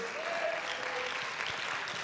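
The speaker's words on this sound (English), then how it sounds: "clap your hands" Church congregation clapping at a Tuesday night service in an Apostolic tabernacle, quiet and distant steady applause with a sustained organ-like tone and faint voices in the room.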